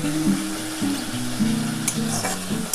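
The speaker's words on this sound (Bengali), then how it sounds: "একটু মশলাটা একটু কষিয়ে নিচ্ছি" A spice paste of tomato and green chili fries in hot oil for a bata fish curry, giving off a steady, close sizzle and crackle with no talking.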